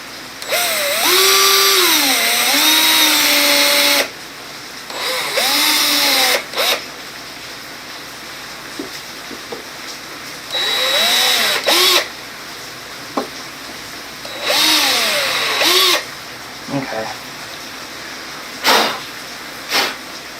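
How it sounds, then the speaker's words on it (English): A power drill bores pilot holes in a Ford Mustang. It runs in several loud, close whirring bursts, each rising and falling in pitch, with short quiet gaps and brief clicks between them. "So now we'll do the rest of our pilot holes."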